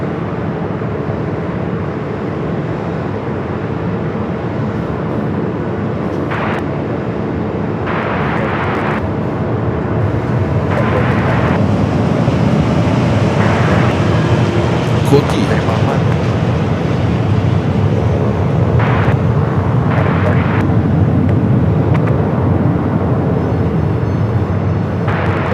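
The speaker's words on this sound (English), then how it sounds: "Also a Frontier A320 Neo also heading over here." A Frontier Airbus A320neo at Phoenix Sky Harbor airport produces a steady, broad jet roar that holds for the whole stretch and grows slightly louder midway. Brief higher bursts come and go over the rumble.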